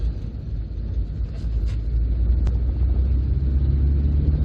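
A 1992 Proton Saga 1.3 GL saloon, fitted with a 1.5 engine, drives along a road, giving a steady low engine drone and road rumble from inside the cabin. The sound stays continuous, with one brief click partway through.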